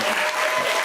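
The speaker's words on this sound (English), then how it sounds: "I like that everyone claps," Studio audience clapping on a talk show, a dense, steady burst of applause from many hands that fills the room, with no voices over it.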